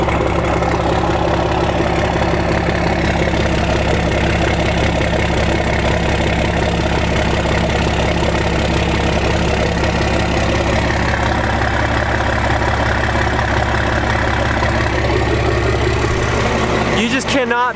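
A first-generation 12-valve Cummins diesel truck engine runs loud and close in a steady, heavy idle rumble with a knocking rhythm throughout.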